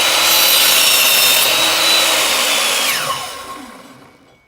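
Sawing or rubbing through the edge of a glued wooden miter joint, a steady loud rasping that runs continuously for a few seconds before a brief slide and then fading away.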